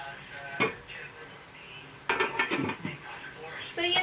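A metal lid clatters onto a cooking pot of simmering papaya, giving a sharp clink followed by a cluster of rattling metallic knocks, close and fairly quiet, with a voice speaking nearby.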